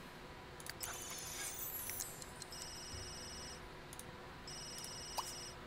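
Smartphone ringtone in The Sims 3 game, sounding in repeated bursts of bright electronic tones, fairly quiet over a steady background hum.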